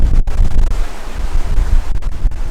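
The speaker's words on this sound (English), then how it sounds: "so we've got some 6 and 8 foot waves coming around behind us here" Rough open-ocean sea of 6 to 8 foot waves running up behind a cruising catamaran headed downwind, heard as a steady loud roar of surf and water with heavy, buffeting wind gusts battering the microphone throughout.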